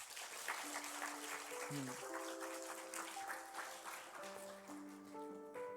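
Church congregation applauding during a Sunday morning worship service, a steady wash of clapping mixed with sustained organ or keyboard tones running underneath throughout.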